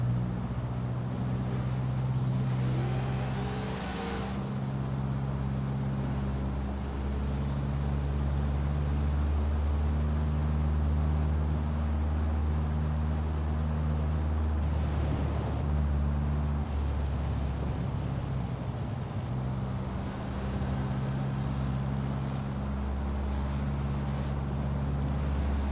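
Simulated car engine from Forza Horizon 4 holding high, steady revs while cruising, a loud continuous drone with shifting harmonic tones throughout, alone with no talk.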